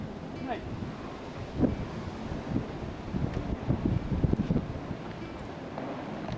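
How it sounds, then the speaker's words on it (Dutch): Strong, gusty wind buffets the microphone beside a traditional Dutch windmill, a steady broadband roar with irregular louder gusts throughout; no talk is heard. "Het waait behoorlijk hè?"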